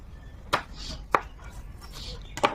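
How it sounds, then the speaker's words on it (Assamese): A knife chops onion on a board in a home kitchen, three sharp separate cuts spaced unevenly over a faint background. "পিঁয়াজটো কাটি ল'লোঁ"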